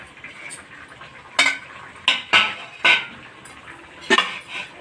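Spoon stirring a chana dal curry in a pan after onions are added, several sharp metallic scrapes and clinks in a loose rhythm over a faint background hiss.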